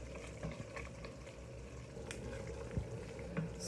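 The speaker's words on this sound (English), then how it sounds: "It's still bubbling away." Curry base with oil bubbling in a pan for chilli cauliflower gives a quiet, steady bubbling with faint scattered pops and a few soft spoon knocks, with no voices.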